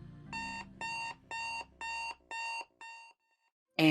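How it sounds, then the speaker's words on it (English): An alarm clock on a bedside nightstand blares in six evenly spaced electronic beeps, loud and close, falls briefly silent, then begins again. "your alarm clock is blaring at high volume on your nightstand"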